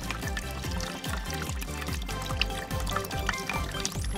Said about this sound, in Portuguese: Vamos pôr um pouco de água.